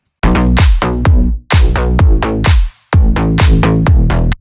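A synthesized slap house bass line, played plainly without octave jumps, comes in three loud, punchy repeated phrases of staccato plucked notes separated by short gaps.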